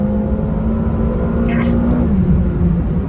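A 2020 McLaren GT accelerates hard in third gear out of a tight corner, its engine droning loud and steady from inside the cabin, pitch climbing slightly before easing, with a brief voice over it.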